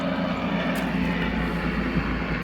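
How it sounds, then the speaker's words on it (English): An airplane passes overhead outdoors at a Halloween haunt build, a loud, steady engine roar that fills the whole stretch and cuts off sharply at the end, with no talking. "Sorry about the airplane."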